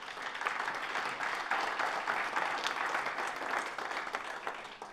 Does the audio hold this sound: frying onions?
no